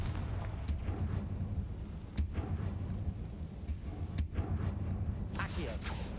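Several Confringo fire-spell impacts in the Hogwarts Legacy video game: brief, fairly quiet blasts at uneven intervals over a low, continuous game background.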